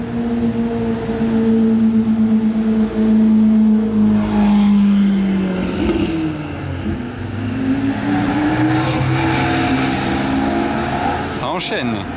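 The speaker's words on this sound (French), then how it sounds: "Oh, échappement Novitec on dirait, hein. Je l'entends d'ici" A Ferrari fitted with a Novitec exhaust revs hard nearby, its engine note rising and sweeping through several pitch changes over a steady loud roar, with someone talking excitedly over it.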